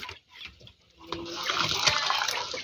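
Water splashes and pours for pet birds, a steady close trickle building into a fuller rushing stream after a brief quiet start.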